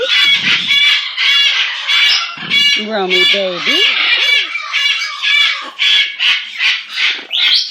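A pet bird makes a quick series of little clucks and sharp squawks, close and loud, with brief pauses between calls, while a person speaks softly to it.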